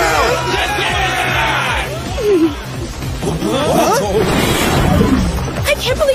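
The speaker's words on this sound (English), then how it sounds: "Can't you see that people are rioting?" Anime crowd of rioters yelling and shouting in a loud, continuous roar, with individual bellows and whoops rising over the din and a voice calling out amid the chaos.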